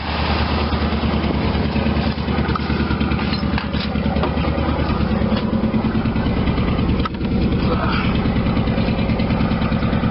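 A 1986 GMC Jimmy K5, being moved for the first time in three or four years, idles steadily with a loud, close, low rumbling engine pulse that runs unbroken throughout, with a few brief knocks on top.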